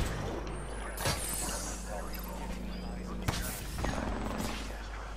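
Gibraltar's bombardment in a shooter game rumbles as scattered blasts and crackling impacts over a dense, noisy battle bed, with people talking throughout.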